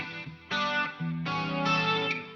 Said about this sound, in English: circular kind of reverb